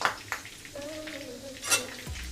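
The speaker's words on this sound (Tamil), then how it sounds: "இந்த ஆயிலே வந்து 2 கொத்த கருவேப்பிலையும் ஃப்ரை பண்ணிக்கலாம்" Curry leaves and green chillies fry in hot oil, a close, steady sizzle with a few light stirring scrapes of a spoon in the pan.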